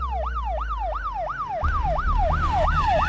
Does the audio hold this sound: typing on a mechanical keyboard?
no